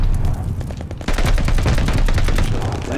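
Dense automatic gunfire in the video game Call of Duty: Vanguard, loud and close, with a brief lull before a sustained rapid burst of shots mixed with booms.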